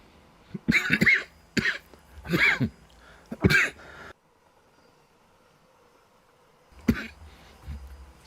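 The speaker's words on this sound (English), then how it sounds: "I thought the coughing was over" A run of harsh, throaty coughs, four or five bursts close together, comes from a nearby person during a Train Sim World 4 session with a Vectron locomotive in Austria. After a quiet stretch of faint low rumble, another cough follows.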